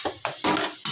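Mixed dalia with vegetables is stirred in a pot, giving four quick scraping, squelching strokes in an uneven rhythm, close and moderately loud, with no voices.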